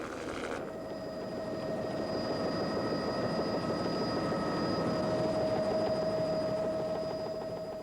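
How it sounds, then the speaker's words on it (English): A helicopter flies over the ice pack on Lake Erie in winter, its rotor and engine making a steady, continuous drone that holds at an even level throughout. "A helicopter was used to observe the ice pack and ice ridges."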